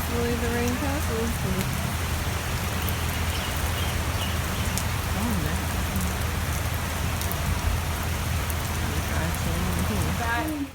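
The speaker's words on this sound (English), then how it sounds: "Raining pretty hard, and John and I are under the umbrella, and" Heavy rain pours down at the Aulani resort in Hawaii while people shelter under big umbrellas. The downpour is a loud, dense, unbroken roar from start to finish, and faint voices murmur beneath it at the opening.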